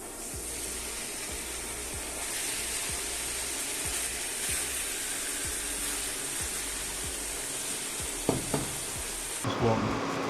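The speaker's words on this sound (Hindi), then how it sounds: "अब हम इसमें चिकन डालेंगे।" Chicken, about a kilo, frying in a hot pan for Hyderabadi lagan ka gosht: a steady, loud sizzle runs throughout, with soft stirring scrapes and a few clinks near the end.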